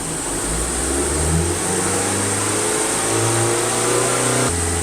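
A 2021 Ford Transit Connect engine runs steadily, then its pitch rises and falls as it revs up toward 3,000-4,000 RPM. The tone is loud and continuous, with no talking, and it drops back suddenly just before the end.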